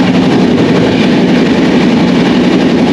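A passenger train running at over 100 km/h gives a loud, constant rumble and roar from inside the carriage, a dense steady drone with no pauses.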